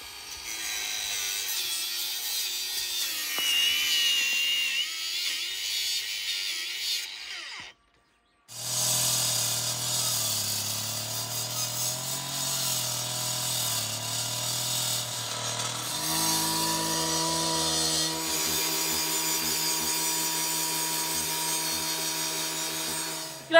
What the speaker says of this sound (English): Grinder was just not big enough to get right through, so Dad's got the still saw on the job.